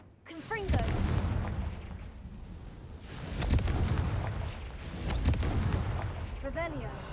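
Booming fire-spell explosions from the Hogwarts Legacy video game, several loud blasts and rumbling bursts spread across the clip, mixed with game effects and brief chirping sounds.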